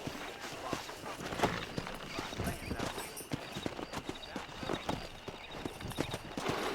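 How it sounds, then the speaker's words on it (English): Rapid hoofbeats of a pack of wild horses galloping in the video game Red Dead Redemption, a dense continuous clatter, fairly close, with faint voices underneath. "there's a pack of wild horses nearby."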